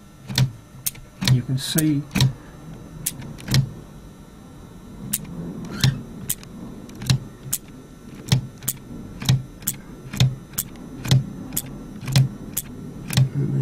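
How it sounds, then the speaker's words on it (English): Keys are pressed on a braille writing machine, their levers pulling a cam, giving sharp mechanical clacks in an irregular then steady rhythm, close and loud, while someone talks over the opening clacks. "When we press the keys, a little lever pulls the cam."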